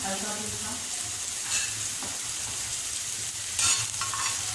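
Onions fry on a street-food griddle for an egg burger, hissing and sizzling steadily with a few scraping stirs along the way and faint background chatter.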